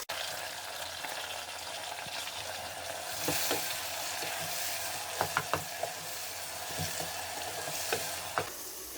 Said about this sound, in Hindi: टमाटर सॉफ्ट होने तक हम इसको भून लेंगे 3 से 4 मिनट